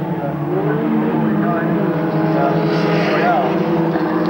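Formula Ford race cars with 1600cc pushrod single-cam Ford engines racing at Wanneroo in 1987, a loud continuous engine drone with a car passing, heard under a commentator talking.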